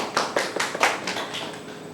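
A small group claps for staff introduced at a design competition briefing, a short burst of distinct hand claps that softens and thins over two seconds.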